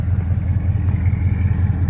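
A stock 5.7 V8 fitted with JBA headers and an unfinished exhaust idles nearby as a loud, steady low rumble with a slightly uneven lope, heard alone.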